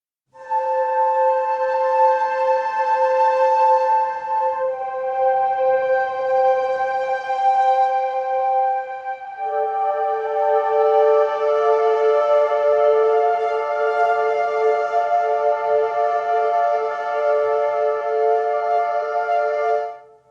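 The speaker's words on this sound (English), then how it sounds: "which are predominantly flutes, and they sound like this." Sustained flute chords from Spitfire Audio's Aperture Cassette Symphony sample library play alone, breathy and smooth, shifting between a few held harmonies over about twenty seconds.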